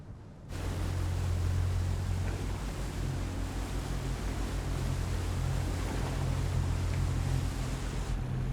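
A ship docked at a grain terminal on the Paraná River gives off a steady low engine or generator hum. Wind and water noise run continuously over it, with no voices.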